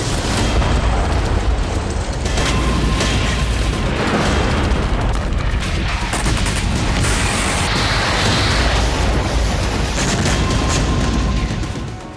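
Continuous loud, rumbling blasts and booms as Russian weapons explode in the Russia-Ukraine war, one explosion rolling into the next for the whole stretch, with no voices.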